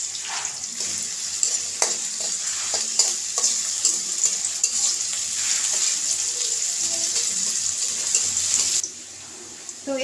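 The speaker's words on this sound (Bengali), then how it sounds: "তো তেল গরম হয়ে গেছে। এ পর্যায়ে আমি পেঁয়াজগুলো দিয়ে দিব।" Chopped onions dropped into hot oil in a home kitchen pan for a prawn and raw banana curry, giving a steady loud sizzle with scattered pops and stirring clicks, then the frying cuts off abruptly near the end.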